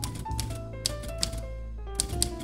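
Keyboard typing in an adventure video game comes as clusters of crisp, fairly close clacks, irregular and bunched in short bursts over a steady musical background, with no talk.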